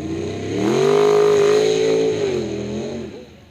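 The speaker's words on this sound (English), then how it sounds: "900 horsepower from his Chevrolet Camaro." A 900-horsepower Chevrolet Camaro drag car accelerates at a drag racing event, a loud rising engine roar that holds, then fades as it pulls away.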